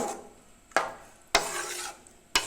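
A spoon stirs goat blood fry in a pan over a medium flame, with three or four sharp scraping strokes against the metal over a low background sizzle.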